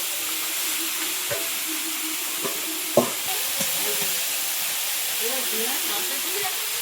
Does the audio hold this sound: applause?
no